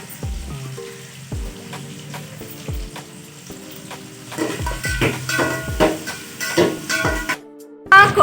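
Onions frying in a pan with oil for coconut rice, stirred with a utensil: repeated scraping strokes over a steady sizzle, close and moderately loud, with no talk.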